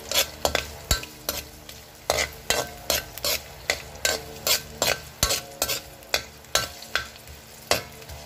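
Ginger and garlic fry in a pan for ginataang tilapia while a utensil scrapes and clacks against the metal in a quick, rhythmic series of strokes over a soft sizzle.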